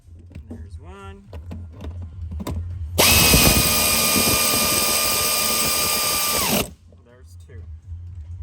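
A power tool, likely an impact gun, runs in one sustained, loud burst of about four seconds while tightening bolts on a 2015 Dodge Ram 3500. It starts and stops abruptly, with quiet shop background and brief clicks on either side.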